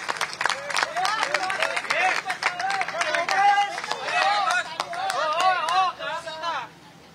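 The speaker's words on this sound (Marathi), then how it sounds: "जोरदार टाळ्या वाजवून आपण सुशीबेन शहांचं या ठिकाणी स्वागत करूया." A crowd at a political party induction event gives sharp, dense clapping that starts close and loud, then eases off toward the end, with voices and crowd murmur mixed in.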